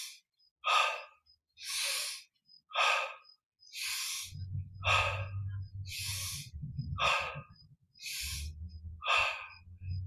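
Slow, deep breaths from a guided yoga and meditation breathing practice, about nine audible airy inhales and exhales in a steady rhythm, close up, with a low hum underneath in the second half.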